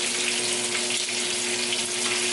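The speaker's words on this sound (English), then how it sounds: "so that you can correctly brown your meat" Pot roast browning in hot oil in a pan, a steady, close sizzle and crackle of frying meat running evenly throughout, with no talking over it.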